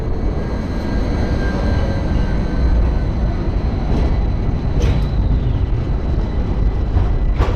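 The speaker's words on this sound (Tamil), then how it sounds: "எலக்ட்ரிக்கலில் தான் ஓடுது இந்த ட்ராம்ப்பு அவ்வளோதான் இப்போ தான் வந்துட்டு கிளம்பிருச்சுங்க" An electric tram pulling away from a stop on a street in Naples, Italy, with a loud, steady broadband rumble and hum that stays close and continuous, plus a faint high whine and a few brief squeaks.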